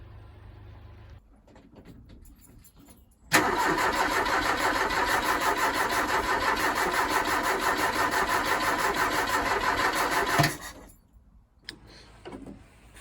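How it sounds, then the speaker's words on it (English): A Ford Capri engine cranks over fast and continuously for about seven seconds, with no sign of firing, then stops. It is loud and close against a quiet garage background. "I did just try turning it over with that plugged on, but it cranked it quite fast"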